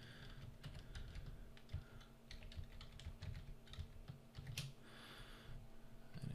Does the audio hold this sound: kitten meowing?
no